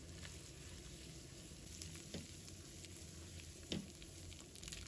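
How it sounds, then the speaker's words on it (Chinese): Ants climbing a tree (glass noodles) stir-fried in a wok over medium heat after a splash of vinegar, giving a faint, steady sizzle broken by a few soft spatula scrapes and taps. "继续把它翻炒均匀"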